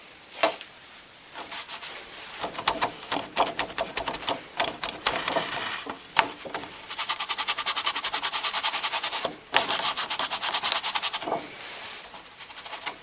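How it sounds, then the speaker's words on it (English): Small hand scraper working softened glue off a drum, a fast run of dry scratchy strokes close up, bursts of rapid rasping separated by short pauses, with no talking. "trying to soften up the glue so that I can remove it using my little scrapery type thing"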